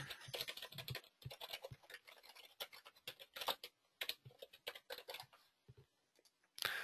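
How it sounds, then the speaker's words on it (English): Rapid typing on a computer keyboard, close and fairly quiet, with irregular bursts of clicking keystrokes separated by short pauses, no talking. "You can type out the rest of this information."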